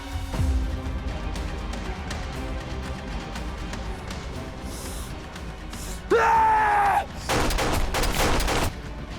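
A gun is fired in a tense confrontation: after a quieter stretch, a loud burst of rapid shots erupts near the end, with a sharp vocal cry around it.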